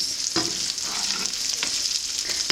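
Homemade sausage frying in a pan with bacon grease, a close, constant sizzle with small crackles and pops, steady and alone.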